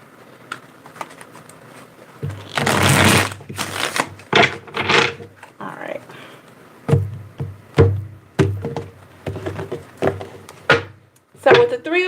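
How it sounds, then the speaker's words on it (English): Tarot cards shuffled by hand in several bursts: a long riffling spell, then a string of short crisp snaps and taps, close and fairly loud, with no talk over it. "I'll get 3 good shuffles."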